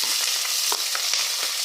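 Onions and potatoes frying with coconut pieces in a pan for a Kerala chicken curry, a loud continuous sizzle with faint stirring clicks, close by and without speech.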